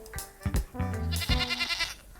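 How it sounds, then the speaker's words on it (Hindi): Sheep and goats bleat repeatedly while grazing in a village pasture, several overlapping calls close by, some short and some drawn out, with no talk. "जब सारी भेड़ बकरियां चरने लगती हैं"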